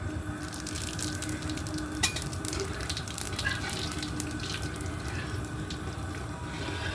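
Bay leaf, dried red chilli and white cumin seeds sizzle in hot oil in a wok as the tempering for a Bengali fish curry, a steady close crackle with one brief sharper pop partway through.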